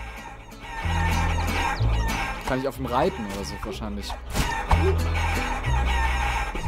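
Clucking chickens from the video game Guacamelee! sound over game music and effects, with someone talking over much of it.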